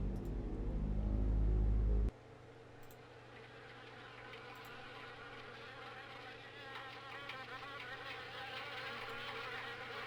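Wasps buzz around an attic window of an abandoned house in the video game Harvester, a steady droning hum that follows a loud low rumble which cuts out abruptly, with the insect whine wavering on and on.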